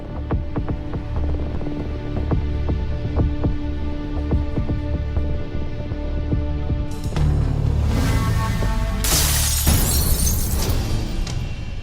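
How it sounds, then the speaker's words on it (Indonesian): A glass house window is smashed, a loud bright shattering burst with scattering shards late in the clip, following a steady low throbbing hum and thumping beneath a tense scene. "Siapa yang mecahin kaca jendela rumahku ya?"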